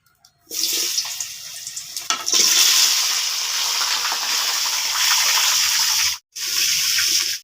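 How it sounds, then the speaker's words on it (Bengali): Pieces of yam and potato hit hot mustard oil in a kadai and set off a loud, steady sizzling hiss that starts abruptly, holds for several seconds, breaks off briefly, then resumes. "ওল আলুকে ভেজে নেব"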